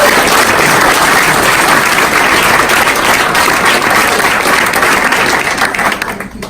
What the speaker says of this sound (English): Clap for yourselves too.